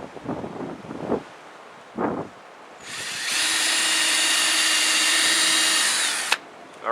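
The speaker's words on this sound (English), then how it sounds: "All right, one more hole to drill here." A power drill bores a hole in a solar-powered vegetable garden setup, a steady high whine running about three seconds before stopping abruptly, preceded by a few brief handling knocks.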